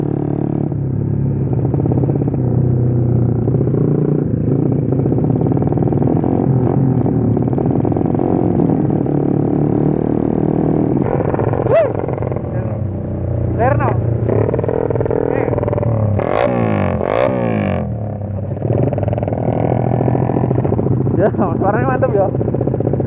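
Yamaha MX motorcycle, its engine bored out from 135cc to 150cc, droning steadily close by on a test ride with rising and falling revs, with people talking over it.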